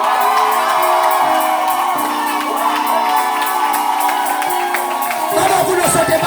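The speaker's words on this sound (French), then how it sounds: "nous on pousse des cris de joie." A church congregation at a youth meeting shouts and whoops for joy, a dense, loud wall of cheering voices that fills the space continuously without a break.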